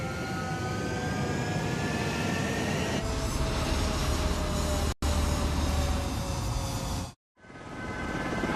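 Fighter jets in Ace Combat 7 roar steadily during takeoff from a runway, a loud continuous engine rumble and whine that cuts off abruptly near the end before resuming.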